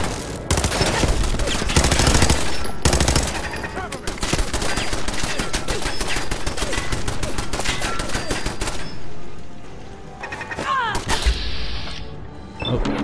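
Rapid machine-gun turret fire trades with pistol shots in Fallout 4, loud and nearly continuous for about nine seconds before thinning into a few scattered, quieter shots and clatter.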